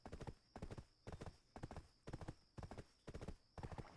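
Rhythmic horse hooves clip-clopping in the video game Black Desert, an even trotting beat of paired strikes repeating about twice per second, crisp and close, with no talk over it.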